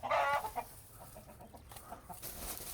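Chickens cluck and squawk close by in a burst at the start, then quieter scattered clucks continue over a rustling background.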